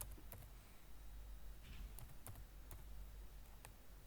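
Faint clicking keystrokes on a computer keyboard tap out a short entry in irregular bursts, quiet over a steady background hum.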